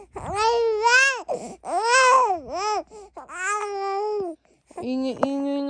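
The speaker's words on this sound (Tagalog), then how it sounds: "Ingay-ingay naman ng baby na yan." A baby babbles loudly in long, rising and falling vocal bursts that edge into crying, one after another with brief gaps, close and alone.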